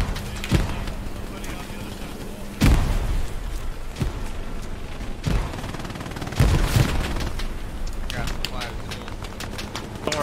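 A video game firefight with gunfire bursts and a frag grenade explosion booming among several sharp shots, under steady talk between teammates.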